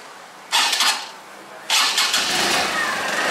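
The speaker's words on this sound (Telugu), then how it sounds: "మనం ఇప్పుడు మనం ఇంజిన్ స్విచ్ ఆన్ చేసుకోవాలి" A TVS Star City Plus BS6 motorcycle is started with one short cranking burst, then a second attempt catches and the engine settles into a steady close idle.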